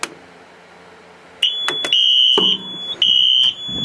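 A Simplex fire alarm system sounds during a test, giving a loud electronic horn tone in two sustained blasts with short clicks and beeps before them, heard up close.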